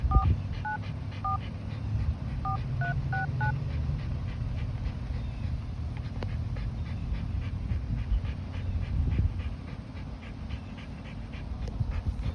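An iPhone keypad sounds a quick series of dialing tones, about ten short beeps in two bursts, over a steady background of a dog panting close by.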